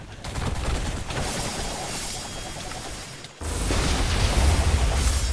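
Explosions go off in a Jujutsu Kaisen mod video game, giving a loud, dense, sustained crackling roar that cuts out for a moment and then surges back even heavier, with no voices over it.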